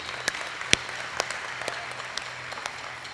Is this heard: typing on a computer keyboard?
no